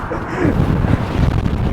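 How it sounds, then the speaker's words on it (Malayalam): Strong wind at Hoover Dam buffets the microphone in a dense, low roar that surges and stays loud throughout. "കാറ്റെന്ന് പറഞ്ഞ ഒരു രക്ഷയില്ലാത്ത കാറ്റാണ്"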